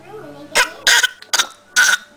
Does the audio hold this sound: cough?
yes